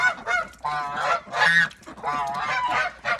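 Loud, repeated honking from a duck and a gander, several nasal bursts in quick succession with short gaps, close and clear with no talking.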